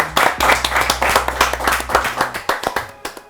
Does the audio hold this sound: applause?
yes